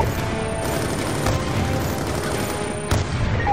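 Sniper gunfire in a Call of Duty Black Ops 2 firefight, heard as a dense, continuous barrage of loud shots and bangs with a sharp crack near the end, with no talk over it.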